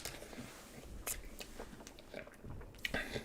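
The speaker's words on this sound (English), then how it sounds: "What are you munching on?" Close, quiet munching on Burger King fast food, with soft bites and crunchy chewing clicks scattered over about three seconds.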